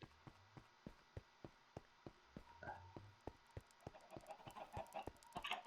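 Chickens in Minecraft give short clucks among sharp evenly spaced taps, a steady ticking rhythm that gets busier toward the end, all quiet with no talk.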